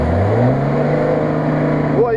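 A Lada Niva engine strains off-road, a loud steady droning growl with rising pitch toward the end, while people talk over it.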